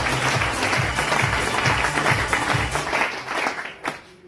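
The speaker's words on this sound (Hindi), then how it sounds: "एक बार जोरदार तालियां हो जाए।" An audience at a business presentation applauds steadily for a few seconds, the dense clapping fading toward the end.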